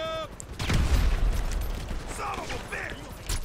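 Gunfire in the video game GTA Online, with police and a helicopter shooting at the player: short, sharp bursts of shots and mechanical clatter, loudest near the start and again at the end, mixed with a person talking.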